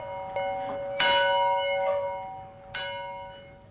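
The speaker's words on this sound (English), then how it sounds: "A bell summoned you to work, and a bell told you when to end." A factory bell in early industrial America rings twice, each strike loud and clear with a long shimmering metallic decay, the second strike following about two seconds after the first.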